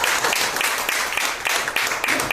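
Applause from an audience at a talk, a steady burst of dense clapping lasting a couple of seconds with some voices mixed in.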